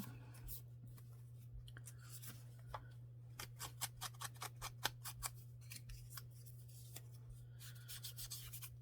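Scissors cutting a sheet of paper in half, a quick series of crisp close snips under a low steady electrical hum, with no talk.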